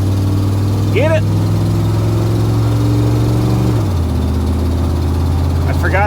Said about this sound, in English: I forgot I got an exhaust manifold leak on the driver's side.